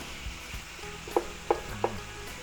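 Two pounds of Wagyu beef ribeye frying for a Philly cheesesteak, with a soft steady sizzle and three sharp utensil taps against the pan, close by.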